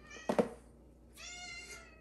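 A house cat meows twice, a short call then a longer drawn-out meow, faint and nearby in a quiet room.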